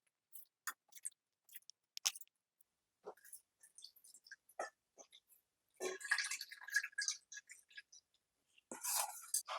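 Millet grains being rinsed in water for a tomato millet rice dish: scattered drips and splashes, then a burst of sloshing and rubbing grains, with a second swirl near the end and no talk.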